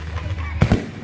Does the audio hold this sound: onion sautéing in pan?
no